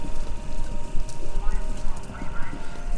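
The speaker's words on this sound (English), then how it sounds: "It sounds like horses." Rapid clip-clop hoofbeats of galloping horses in a video game run continuously over a dense, noisy background, with voices mixed in.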